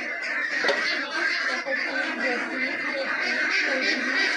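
A flock of farm ducks quacks continuously in a dense, overlapping chorus, steady and moderately near, with no clear pauses.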